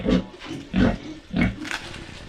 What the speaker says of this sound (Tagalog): Ay, baboy natin dito.